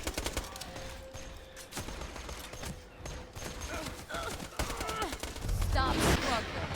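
Borderlands 2 combat is full of rapid, scattered gunshots, some near and some more distant, mixed with clattering impacts and a muffled voice, building to a louder, dense burst near the end.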